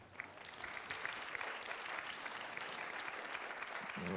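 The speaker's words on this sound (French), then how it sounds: "Oui, applaudissez-le." Sustained audience applause at a French conference session welcoming a vice-president on stage, a dense steady patter of many hands, fairly distant and swelling slightly toward the end, with no talk over it.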